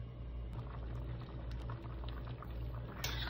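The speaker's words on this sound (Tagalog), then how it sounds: "Takpan lang nato. I-simmer nato og mga 5 minutes." A pot of binignit simmers under its lid, giving a steady, faint bubbling and gurgling with a low rumble throughout.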